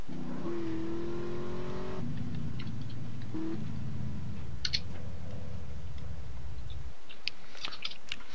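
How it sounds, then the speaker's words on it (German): A car engine in the video game MTA starts up and idles with a low, steady hum that shifts pitch a few times, joined by scattered short clicks and taps, then cuts off near the end. "Mach Motor an."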